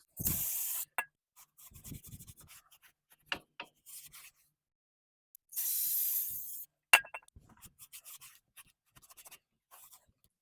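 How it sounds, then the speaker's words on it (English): A microfiber cloth rubbing and wiping drum brake shoes wet with brake cleaner on a Ford F100, heard as close, soft swishing strokes alongside two short hissing bursts of spray and scattered small clicks, with no talk. "I'm still going to use a microfiber to rub it against the brake shoes"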